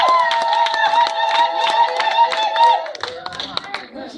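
A church congregation clapping together in quick, rhythmic unison close by, loud and steady, then trailing off into scattered claps and voices at the end.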